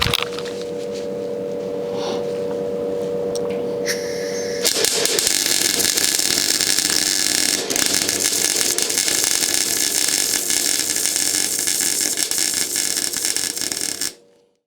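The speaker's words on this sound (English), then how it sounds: "now I'm going to carry on and weld this section in" Welding on a Rover P4 chassis repair produces a continuous loud hissing, crackling buzz that shifts in intensity partway through and cuts off abruptly at the end.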